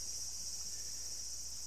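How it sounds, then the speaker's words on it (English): Cicadas drone in a steady, unbroken high whine through a night scene in the video game Yomawari Night Alone, constant and fairly loud with no other sounds or voices. "Oh, the cicadas are all out tonight."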